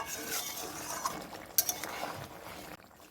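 Chicken with capsicum, tomato and slit green chillies being stirred in a pan, with soft scraping, light metallic clinks from the spoon and a faint sizzle, close and fairly quiet, ending in a brief near-silence.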